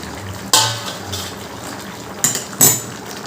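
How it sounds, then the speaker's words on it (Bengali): A metal lid clatters off a cooking pot of simmering vegetables with sugar and water: a few sharp, close knocks and scrapes over a quiet background, with no talking. "এবার আমি ঢাকাটা একটু খুলছি"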